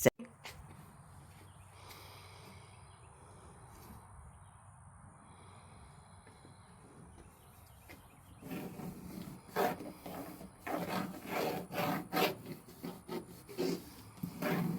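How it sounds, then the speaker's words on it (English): Peel and stick tiles are pressed and rubbed into a wooden brooder box, quiet shuffling at first, then louder close scraping and rubbing in rapid bursts. "here I'm putting in some of the peel and stick tiles to help secure the box inside."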